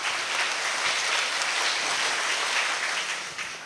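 Applause from a school audience, steady and dense for several seconds before thinning slightly at the end; no talk over it.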